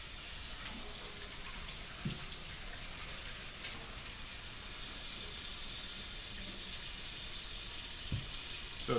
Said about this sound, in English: So it's filling for water in my sink.